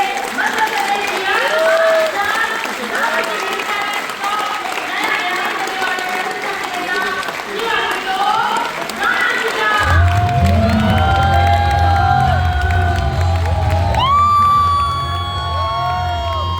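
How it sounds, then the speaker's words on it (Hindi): A show audience gives a loud welcome to a guest, with sustained applause, cheering and whoops from a large crowd, swelling toward the end as music enters underneath. "तो आइए जोरदार तालियों से स्वागत कीजिए मध्य प्रदेश की"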